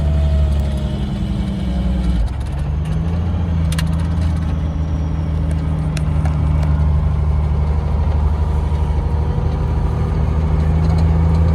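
Farm vehicles idle steadily while warming up on a frosty morning near Altamont, a loud, continuous low diesel rumble that holds close and even throughout with no talking.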